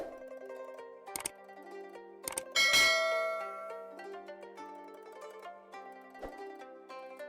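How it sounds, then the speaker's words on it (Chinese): A bright notification bell chime rings out over soft sustained instrumental music, with a few sharp percussive clicks around it; no speech. "然后再单击小铃铛"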